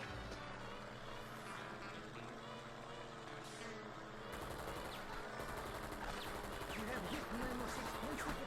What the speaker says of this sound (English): So you have machine guns which you can fire at your opponents